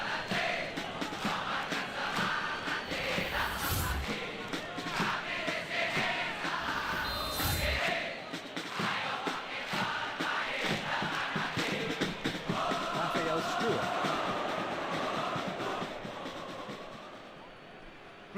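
Stadium crowd in an eFootball PES 2021 match, a steady roar of supporters with swells of cheering, running continuously under game commentary.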